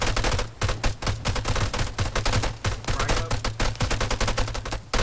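Sustained gunfire in the military game ArmA 3, fast automatic bursts of sharp cracks fired close and loud in a steady rapid rhythm, with no voices.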